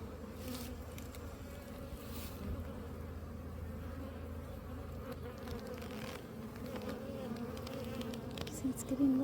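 A honeybee swarm hums continuously and steadily as it is shifted into a hive box, a dense close buzz that holds throughout and swells slightly toward the end.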